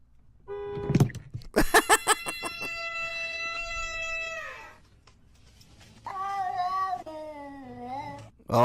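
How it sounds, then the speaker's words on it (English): An angry cat meows and yowls loudly several times, long strained cries up close with a short break between outbursts, and no talk over them. "Oh, the cat's pissed."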